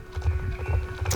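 Horse hooves clip-clop in the Star Stable video game, a steady run of moderately loud, close hoof beats with a brief brighter noise near the end and no voices.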